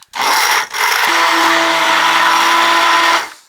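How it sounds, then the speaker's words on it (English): An emulsion blender whirs through cherries, milk and protein powder, a loud steady high-pitched motor whine with a brief dip near the start, then running evenly before spinning down at the end. "Now for the emulsion blender to break down the cherries and basically unify all the different"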